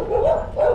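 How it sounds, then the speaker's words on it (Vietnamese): A dog in a coastal village near Hue beach in Vietnam gives two barks, the first longer, both fairly loud and close, with no talk. "Chó sủa rồi."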